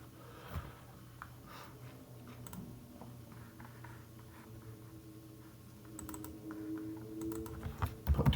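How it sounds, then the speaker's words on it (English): Rapid keystrokes on a computer keyboard, an irregular stream of light clicks with short pauses, close and fairly quiet, turning busier near the end; no talking. "So you can type in fractions or you can type in decimals."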